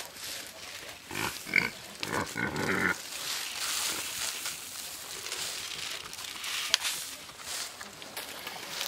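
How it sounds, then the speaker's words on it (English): American guinea hog pigs on a homestead at morning feeding, grunting and squealing close by in short bursts over a noisy background. "This American guinea hog breed will get their snack this morning"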